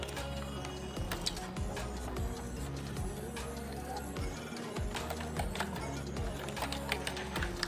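An email address is typed on a computer keyboard: a fast, uneven run of close, crisp key clicks with brief pauses, plus a faint background hum.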